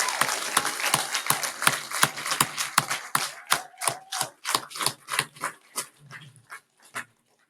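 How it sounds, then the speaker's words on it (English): The audience at a VA police class graduation ceremony claps: sharp, evenly spaced claps keep a steady beat, then thin out and fade until they stop about a second before the end. "please give another round of applause to VA Post Class 2512"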